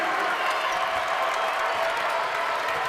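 A basketball crowd at a Western Kentucky home game inside Diddle Arena roars in a dense, steady wash of cheering and clapping, loud and sustained with no break.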